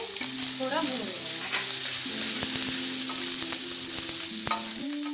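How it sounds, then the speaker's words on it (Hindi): Finely chopped onions frying in a pan for baigan ka bharta, with a loud, continuous sizzle and crackle and occasional stirring scrapes, close by and with no voices. "अब हम इसमें बारीक कटी प्याज डालेंगे, इसे थोड़ा भून लेंगे।"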